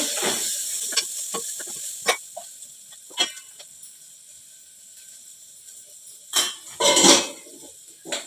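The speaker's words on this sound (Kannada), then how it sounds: "ಈಗ ಇಷ್ಟು ಮಸ್ತ್ ಫ್ರೈ ಆಯ್ತು" Peanuts frying in a pan while being stirred, with a faint sizzle and a few sharp clinks and scrapes of a metal spoon against the pan, spaced apart, ending in a louder cluster of stirring.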